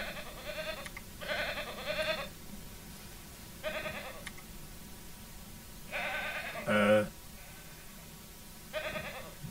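Goats in the farming game Ranch Simulator bleat in a series of five or six nasal, wavering calls spaced a second or two apart, close and clear over a quiet background.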